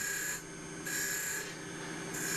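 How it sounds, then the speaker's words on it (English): A 6mm bowl gouge cuts elm on a spinning lathe, producing a steady, hissing scrape that swells and eases in long passes over a low motor hum, close and continuous. "bowl gouge, just to try and take the shape round, take some wood off to make that band stand out."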